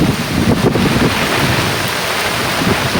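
Heavy rain pours steadily in a village, with a dense roar of water and low rumbling that suggests thunder, loud and continuous with no voices.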